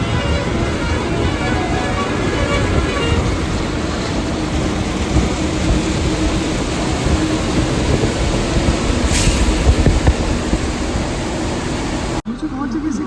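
Steady rain falls at a toll plaza on a route carrying a truck loaded with bananas toward Kashmir, a broad continuous hiss filling the scene, with voices talking over it before a sudden cutoff near the end.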